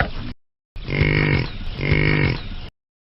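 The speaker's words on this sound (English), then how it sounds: "buffalo," A buffalo gives two long, low grunting moos in a row, close and fairly loud, with a shorter animal call just before a brief pause.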